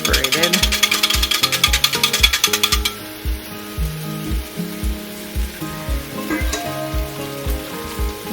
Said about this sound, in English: Left-handed whisking.